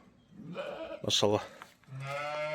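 Lambs bleat in short harmonic calls, one near the middle and a longer one toward the end, mixed with someone speaking nearby.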